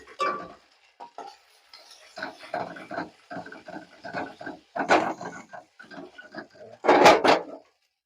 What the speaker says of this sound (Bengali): আমার ডিম দেওয়া হয়ে গেছে এখন নাড়িয়ে নেব